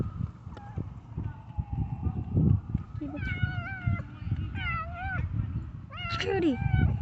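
A cat meows repeatedly in rising, drawn-out cries over rustling and background noise, with several distinct meows close by in the latter half.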